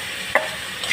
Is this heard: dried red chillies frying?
yes